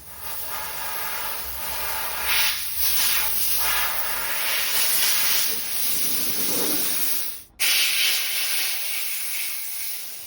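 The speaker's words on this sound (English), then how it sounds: "blowing it down with just with compressed air to get all the moisture out of all the nooks and crannies" Compressed air hisses in a continuous loud blast into a Skilsaw 77 saw toolbox, blowing out moisture, with one brief cutoff before the airflow resumes.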